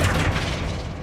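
The Flipendo spell is cast in the Hogwarts Legacy video game, giving a brief, dense whooshing boom that fills the moment with steady, loud rumbling noise.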